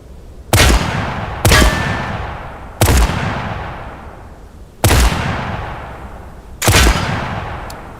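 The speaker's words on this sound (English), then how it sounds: "we got the M4 entry, also known the Benelli M4, 12 gauge with a decent large barrel, pistol grip, semi-automatic" Five loud, sharp shotgun blasts from a Benelli M4 12 gauge semi-automatic shotgun with pistol grip, spaced irregularly about one to two seconds apart, each followed by a ringing decay with no talking.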